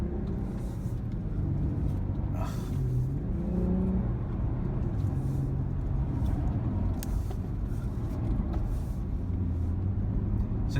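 An Infiniti Q60 Red Sport 400 weaving through a slalom on a racetrack, its engine drone rising and falling steadily as it carves back and forth, heard from inside the car with constant road rumble and no talk.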